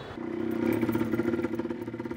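A motorcycle funded by UNICEF runs nearby on a supervision trip to a health centre in Goma, its engine putting out a steady pulsing mid-pitched chug with some clatter.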